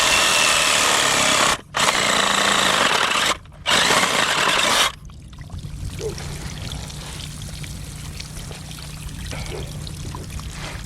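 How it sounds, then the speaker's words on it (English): A power tool cutting out a pipe coupler roars loudly in two bursts with brief pauses, then stops, leaving a quieter hiss and faint trickling. "So we're gonna cut this coupler out of here"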